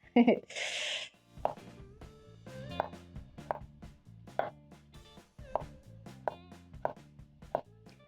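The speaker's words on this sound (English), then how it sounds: "I'm going to be chopping up 2 tomatoes. So I'm going to cut in the middle, slice and dice." A knife chops tomatoes repeatedly on a cutting board, about a dozen sharp taps at an uneven pace, with brief talk at the start.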